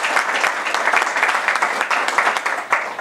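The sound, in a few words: applause for Gerardo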